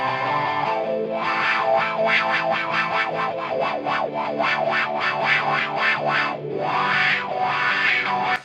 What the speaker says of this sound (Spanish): el wah es simplemente el wah, wah, wah